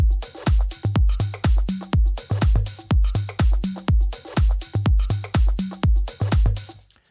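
Melodic house track with the full beat running: deep pulsing kick and bass hits in a steady four-on-the-floor rhythm, layered with bright plucked synth notes, loud and alone.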